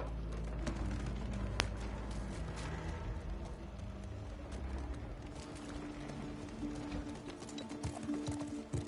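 Horse hooves clip-clopping in a steady, continuous rhythm, partly buried in dense background noise throughout.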